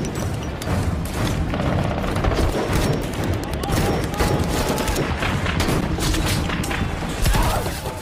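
Battle gunfire at a last stronghold held against ISIS fighters: dense, continuous bursts of shots and booms, loud and chaotic, with a voice heard faintly in the mix.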